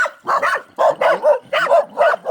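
Dogs barking in a rapid series of about six loud, close barks in quick rhythmic bursts, with no talk over them.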